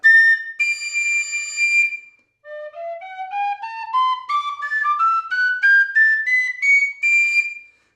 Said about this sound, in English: Now to get to the top D, that's probably the loudest note on the whistle.